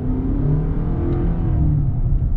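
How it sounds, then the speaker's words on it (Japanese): A Toyota Crown sedan hybrid engine drones and builds steadily under acceleration, heard from inside the cabin, a deep, muffled rumble that holds throughout without speech. "良いエンジン音が車内に程よく響き渡る"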